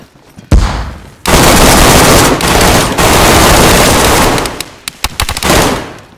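Loud, close automatic gunfire in the DayZ video game comes as sustained bursts with short gaps between them, followed by a few scattered single shots and another burst at the end.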